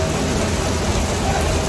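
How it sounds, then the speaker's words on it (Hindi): Heavy rain pours on the University of Glasgow campus, a dense, continuous hiss of drops at close range, loud and unbroken throughout. "इतनी बारिश है यार"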